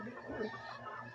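A turkey makes soft clucking and gobbling-like calls while being fed, fairly faint and close, with a brief louder burst in the middle.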